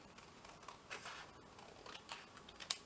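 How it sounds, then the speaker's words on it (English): Faint, close snips of scissors cutting scrap paper at a paper-craft table, a few quick crisp cuts in an otherwise quiet room. "Get my scissors"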